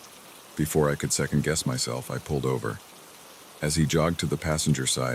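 Steady rain falls as a soft, continuous hiss, faint and even, running beneath a storyteller's narration and carrying on alone through a short pause in the speech.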